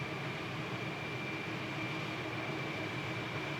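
A Boeing 777 taxiing at John F. Kennedy International Airport in Microsoft Flight Simulator 2020, a steady broadband jet roar with a thin high whine held constant throughout, no voices.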